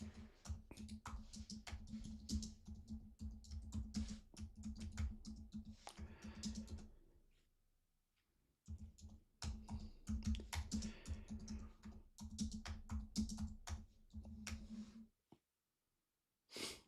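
Rapid clattering keystrokes of typing on a computer keyboard, close and busy, with a short pause in the middle before typing resumes, then breaks off.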